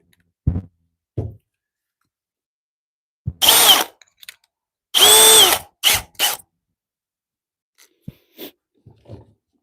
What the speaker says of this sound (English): get our drill set up